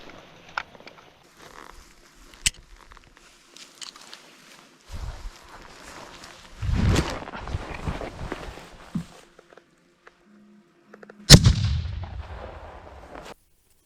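Several sharp, loud hand grenade blasts ring out over a few seconds, each followed by a rumbling tail of debris and rustling; quieter gaps of outdoor noise lie between them.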